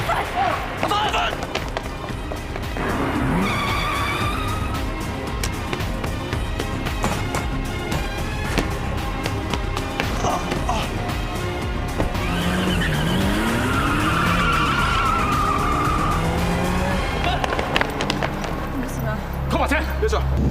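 Tires squeal as a car skids and races away in a Cantonese action drama chase, with long sliding screeches rising and falling over engine roar and music, and people shouting in the scene.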